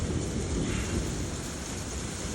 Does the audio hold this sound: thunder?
yes